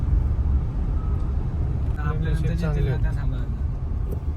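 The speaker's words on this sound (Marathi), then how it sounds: "आता पुन्हा एकदा ट्रॅफिक मध्ये आपलं स्वागत आहे" Steady road traffic rumble on a highway lane toward Mumbai, with vehicles passing close by in a continuous low drone, and a voice talking over it midway.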